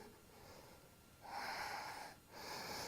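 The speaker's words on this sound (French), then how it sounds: "Et toujours respiration Ujjayi ou longues et profondes inspire et expire." Ujjayi breathing during a yoga session: soft, audible breaths with a hushed oceanic rasp, a quiet inhale swelling and a brief pause before the next long breath, close and steady.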